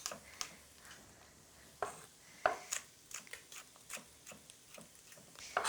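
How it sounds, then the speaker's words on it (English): A knife chops green chillies on a board in light, irregular taps, sparse at first and then quicker, soft and close in an otherwise quiet kitchen. "So I'm just going to chop up some green chillies"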